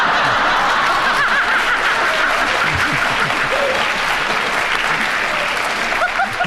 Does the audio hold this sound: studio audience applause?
yes